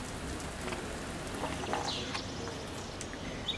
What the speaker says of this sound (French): Encore et toujours de la pluie.